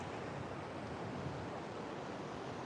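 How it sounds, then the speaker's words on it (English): Ocean surf along a coast with whales and dolphins offshore, heard as a steady, dense wash of breaking waves with wind over the microphone, continuous and moderately loud, with no voices. "Yes, the waves aren't too bad."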